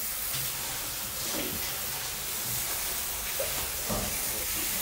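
Onions hiss and sizzle steadily in a hot pan while cooking Geschnetzeltes, a continuous broad crackling hiss with faint clinks and brief murmurs of talk underneath.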